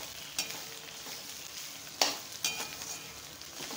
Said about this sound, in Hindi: इसमें देखिए गोभी को भून लेते हैं